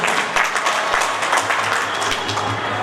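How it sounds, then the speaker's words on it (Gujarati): Steady audience applause fills a religious discourse gathering at a Swaminarayan temple, dense clapping from many hands holding even and loud throughout. "એટલે તાળીઓ પાડો."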